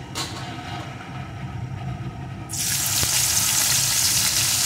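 Chopped onion hits hot oil after tempering spices, a quiet crackle bursting into a loud, sustained sizzle halfway through, heard close with no talking.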